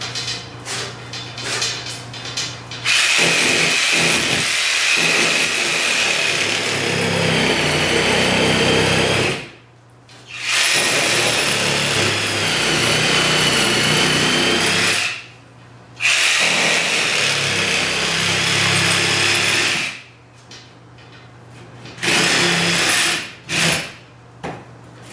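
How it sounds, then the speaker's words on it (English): A power tool cuts holes near a garage ceiling truss in loud, whining bursts of several seconds each, separated by brief silent pauses, with no talking. "I'm cutting a couple holes, one on each side, so I can see the truss here"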